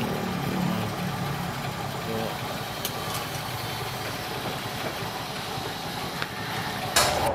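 A Honda XRM 125 motorcycle engine idles nearby with a steady low chugging rumble, joined by a few sharp clicks and a small knock near the end.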